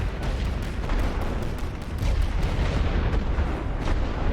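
Continuous artillery fire in The Great War: Western Front, a dense, rumbling wall of overlapping booms and distant blasts that carries on steadily with no pause.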